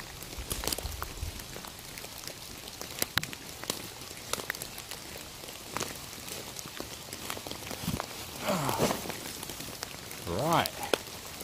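Rain pattering steadily through a dark winter woodland at night in the High Weald, with a few footsteps and rustles close by and brief louder splashes near the end.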